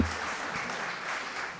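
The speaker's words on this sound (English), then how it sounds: "let's have a quick round of applause for our panel" Applause from a conference audience for a partner panel, a brief, moderately quiet patter of clapping that holds steady for a moment and then fades slightly.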